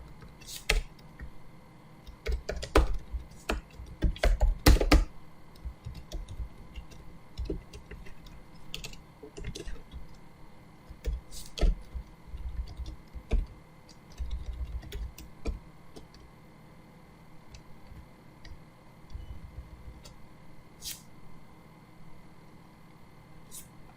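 Someone types in short irregular bursts on a computer keyboard while writing Python code. The key clicks come close and fairly soft, with brief pauses between runs and no voices.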